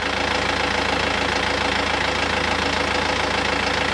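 A boat engine idles while driving an alternator, giving a loud, steady low drone with a continuous even knocking pulse that stays level throughout.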